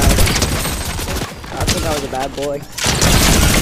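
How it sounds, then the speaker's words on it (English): Minigun fire in a video game, a loud continuous roar of rapid shots that dips briefly in the middle and then returns at full strength, with someone talking over it. "Where in the world did this man get a minigun?"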